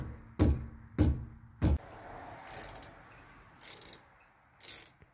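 Ratchet wrench turning out brake caliper bolts on a 2018 Chevy Cruze LT, three loud close clacks followed by quieter bursts of rapid clicking, faint and spaced apart.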